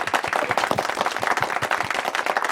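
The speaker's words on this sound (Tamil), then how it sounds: "ரெடிண்டாவுக்கு எல்லாரும் பெரிய கைத்தட்டல கொடுத்துடலாம்" Audience at a Tamil youth program clapping together in a busy, even stream of claps, fairly close and steady throughout.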